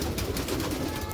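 A brief, close burst of soft, throaty cooing from kept pigeons, heard alone over a dense background hiss.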